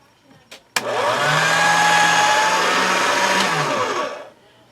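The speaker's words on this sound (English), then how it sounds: "you could put this through the pasta machine on a number 1" Polymer clay is fed through a pasta machine on setting number 1, producing a loud, steady motorized hum that starts abruptly after a couple of clicks and runs about three and a half seconds before winding down.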